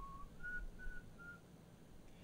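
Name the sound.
cartoon character whistling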